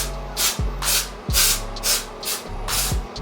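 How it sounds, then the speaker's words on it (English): Amika texture spray is misted onto hair in a series of about six short, soft hissing bursts, fairly close and evenly spaced, with no talking. "So I like to just lightly spray this on my hair."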